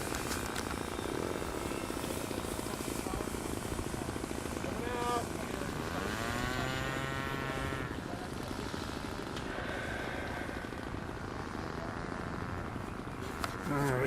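A radio-controlled B-17 model bomber on its maiden flight drones steadily overhead, its propeller whine rising and falling in pitch as it passes, with people talking over the continuous engine buzz at an airfield.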